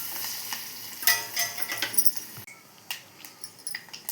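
Curry leaves and spices sizzle in hot ghee for a dal tempering with leafy greens, a crackling spatter with sharp pops and bursts, loudest early then settling into scattered crackles close by.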